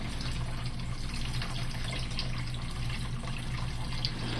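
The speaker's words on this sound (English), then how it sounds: "Right now I'm literally just running water off of it, getting all the pet hair and dander down off of it" Water running steadily off an RV part being rinsed of pet hair, a constant splashing, gushing stream at moderate level with no talk.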